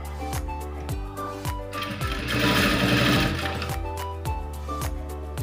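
Sewing machine running steadily while stitching blouse fabric, a close, continuous mechanical whir with rhythmic needle thumps that builds in speed and loudness mid-run, with no voices.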